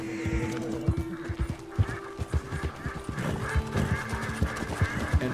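A tired horse trots in Red Dead Redemption II, its hooves thudding in a steady close rhythm with snorting breaths over a soft outdoor ambience.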